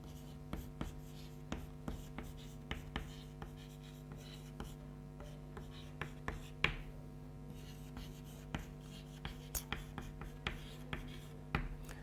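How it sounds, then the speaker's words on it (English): A word is written on a classroom board, a series of quick, light taps and scratches of the pen or chalk in irregular bursts, close but quiet against a faint room hum. "I need to write that word, I think."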